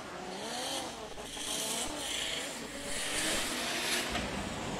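Drift cars with JZ engines battle through a chase run at the Drift Kings Asia Cup, their tires squealing over a steady, loud engine roar that holds throughout with slight surges.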